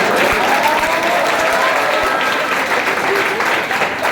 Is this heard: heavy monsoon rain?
no